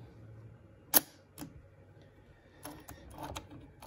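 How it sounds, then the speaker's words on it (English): A Leica iiiF rangefinder camera with a 50mm Summitar lens fires its shutter at 1/500th of a second, a single sharp close click followed by softer mechanical clicks and handling noises in a quiet room. "I'll change this to a faster shutter speed here, 1/500th."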